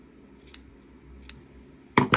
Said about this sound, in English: you can just take these and cut them